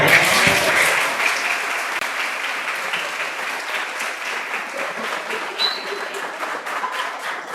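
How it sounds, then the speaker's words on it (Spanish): Sustained applause from an audience at a conversation event about the Venezuelan national football team in Guayana, loud and dense, steady throughout with no one talking over it. "brindemos un aplauso"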